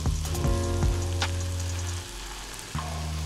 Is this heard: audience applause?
no